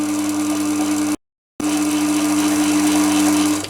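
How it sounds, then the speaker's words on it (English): A Chinese mini lathe's spindle motor runs with a steady electric whine and hum, briefly cut out before resuming at the same pitch, close and fairly loud. "I can turn the direction of the spindle and it'll work without having to turn the actual spindle off."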